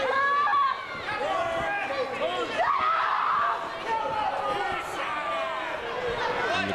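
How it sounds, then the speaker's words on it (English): Wrestling crowd at a Southern Pro Wrestling women's match, a dense babble of cheering and chanting that fills the arena steadily with rising swells. "And the crowd are getting in on it."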